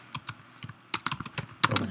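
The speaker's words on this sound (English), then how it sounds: "I can begin typing in whatever I want in this particular effect." Rapid, uneven keystrokes clatter on a computer keyboard at close range, with short bursts and pauses and no speech over them.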